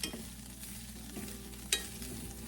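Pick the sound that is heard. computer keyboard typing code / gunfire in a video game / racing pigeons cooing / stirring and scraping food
stirring and scraping food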